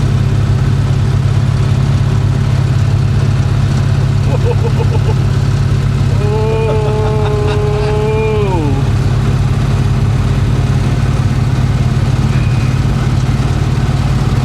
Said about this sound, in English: That sounds like valves about to blow.